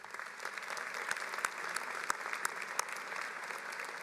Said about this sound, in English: Please join me as we applaud their support of and dedication to the success of our students